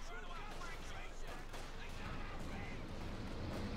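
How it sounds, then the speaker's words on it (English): Dense battlefield gunfire from the Company of Heroes 2 strategy game, with a machine gun among rapid overlapping shots and explosions, a continuous loud clatter sustained for the whole span while a commentator talks over it. "Close again, machine gun here."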